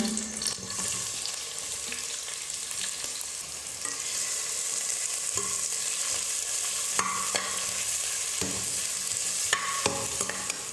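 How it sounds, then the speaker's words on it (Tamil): Two large onions, thinly sliced lengthwise, fry with green chilli in hot oil for tomato rice, giving a continuous close sizzle broken by repeated stirring scrapes and spatula clinks. "ரெண்டு பெரிய வெங்காயம் எடுத்து நல்லா மெல்லிஸாக நீளமாக கட் பண்ணி வச்சுருக்கேன் அதையும் இப்போ சேர்த்துடுறேன்"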